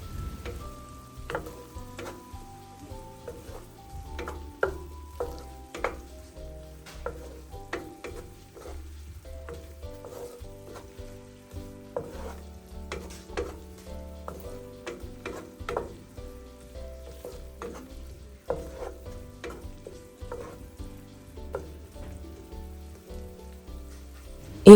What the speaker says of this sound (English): I'll stir and fry this for about 2 minutes.